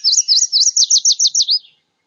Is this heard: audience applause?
no